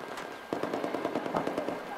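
Rapid automatic gunfire rattles in Battlefield 4 on the Flood Zone map, a fast string of sharp shots after a brief quieter lead-in, sounding moderately distant.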